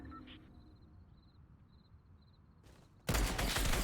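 Assault rifle fire in the video game Fortnite, a loud dense burst of rapid shots erupting suddenly after a quiet stretch of faint game ambience with small beeps.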